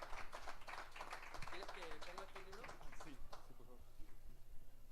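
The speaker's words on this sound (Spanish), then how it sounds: "les pido un fuerte y caluroso aplauso" Applause from the audience at an antique book fair in Guadalajara, a crowd clapping steadily for about three seconds before fading into room noise, with a voice speaking over it.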